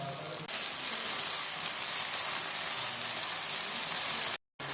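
Masala with ginger garlic paste fries in a pan for aloo gosht, giving a loud, continuous close-up sizzle and hiss that runs steadily before cutting out briefly near the end.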